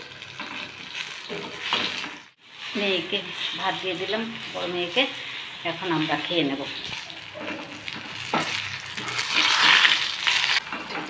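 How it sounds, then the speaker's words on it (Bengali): Pointed gourd (potol) fries in a pan with a soft, steady sizzle that runs beneath a person talking throughout. "এদিকে পটল ভাজা করছি"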